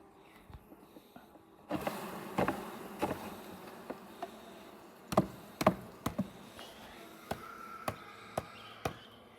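Honey bees buzzing around a frame lifted from a hive during the first inspection after winter, a low steady drone broken by scattered sharp knocks and taps as the frame is handled.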